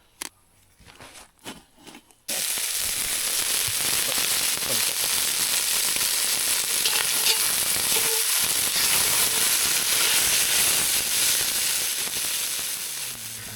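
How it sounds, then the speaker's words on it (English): Seasoned meat searing in a camp oven pot over campfire coals, a loud continuous sizzle and crackle that starts abruptly after a few quiet knocks and holds steady to the end. "we're going to sear it on the fire"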